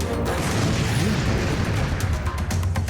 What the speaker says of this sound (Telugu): ఇంకో బాంబు పేలిందా?